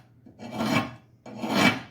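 A file rasped along the edge of a zero turn lawn mower blade, two distinct scraping strokes, close and dry, each building to a gritty peak with a brief pause between.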